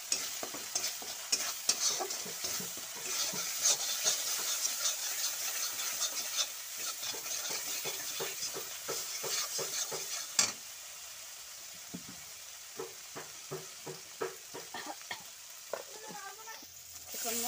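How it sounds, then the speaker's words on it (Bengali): Spices with a little salt and turmeric fry and get stirred in a pan, a steady sizzle broken by rhythmic scraping strokes of a spoon, close and fairly quiet. "মশলাটার সাথে ভেজে নিচ্ছি আর অল্প লবণ দিয়ে দিচ্ছি"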